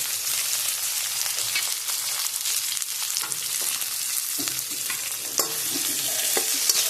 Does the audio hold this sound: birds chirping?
no